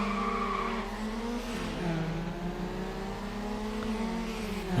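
Race cars in Need for Speed: Underground roar off the starting line together, a steady layered engine drone with rising revs and faint tire squeal, loud and continuous without talk.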